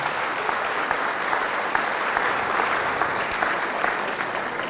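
Steady applause from a church congregation at a Catholic healing and deliverance talk, dense and even throughout at moderate distance with no voices over it.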